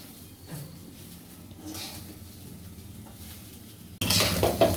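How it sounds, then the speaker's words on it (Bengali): Rice is stirred with spices in a pot while cooking a chicken biryani, giving soft scraping and light utensil taps close by, and the sound turns to a louder sizzle and clatter for the last second. "সুন্দর করে নেড়ে চেড়ে চালের সাথে মিশিয়ে নিতে হবে সবগুলো উপকরণ।"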